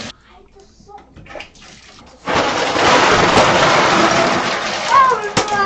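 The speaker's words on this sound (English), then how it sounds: "We're going to turn the tub on icy cold. Filling up the tub with water!" Cold water gushes from a bathtub tap into the tub, a loud, steady rushing splash that starts abruptly after a quiet, talk-filled opening and runs on close to the microphone, with brief voices over it.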